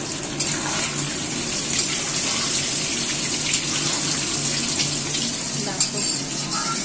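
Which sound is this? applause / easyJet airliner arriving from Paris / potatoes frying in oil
potatoes frying in oil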